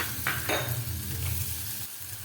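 Chopped green chillies, about a quarter cup, hit ginger frying in a pan for a Kerala puli inji, setting off a steady close sizzle with a few bright crackling spurts near the start. Nobody speaks.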